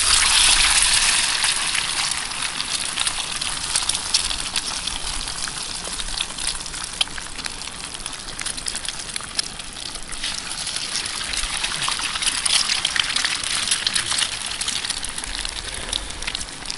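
Steady water gushing and pattering as it drains off food wrapped for cooking at a wild campsite, a continuous splashy hiss with no pauses, moderately loud and close.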